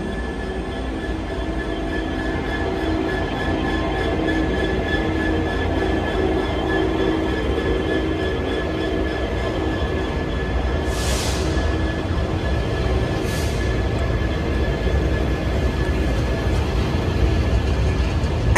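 Class 66 diesel locomotive 66165 passing on a British railway line, a continuous loud rolling rumble with steady tonal hum and wheel noise sustained throughout, heard from a nearby train.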